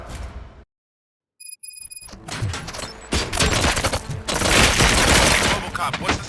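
Dense gunfire in the video game RoboCop: Rogue City, a chaotic fusillade of rapid shots and bursts after a brief silence and a chime, loud and continuous for several seconds with possible voices mixed in.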